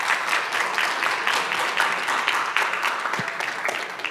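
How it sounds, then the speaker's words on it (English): Audience applause closing a lecture event's Q&A session, a steady wash of many hands clapping at moderate loudness, continuous throughout with no voices on top. "So a big round of applause for everyone who joined, for everyone who created it, and for everyone who fulfilled it."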